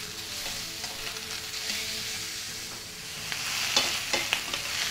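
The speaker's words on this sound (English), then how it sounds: "we'll add our steaks. We'll blacken our steaks for about one minute and then we'll turn." Steaks blacken in a hot skillet with a steady, close sizzle and crackle, brief pops and spits rising near the end, no voices.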